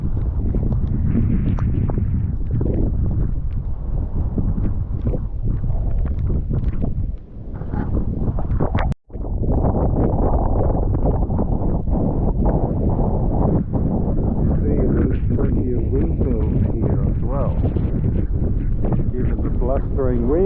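Strong coastal wind buffeting the microphone in a sand dune area at Cape Bridgewater, a loud continuous low roar with gusty surges, a brief dropout midway, and someone talking over it.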